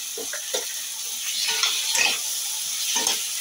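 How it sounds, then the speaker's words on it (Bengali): Tomato paste sizzles and spits as it fries in a pan, with a steady close hiss broken by a few soft scrapes and knocks of the stirring spoon. "টমেটো বাটাটা দিয়ে আমি কিছুক্ষণ নাড়বো।"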